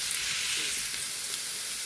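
Masala sizzling and frying in a pan for a Kerala-style chickpea curry, a steady close hiss with no speech.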